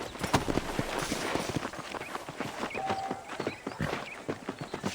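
Horse hooves walking in the Red Dead Redemption video game, a steady clip-clop that continues throughout at moderate loudness, with faint game ambience and a brief tonal sound partway through.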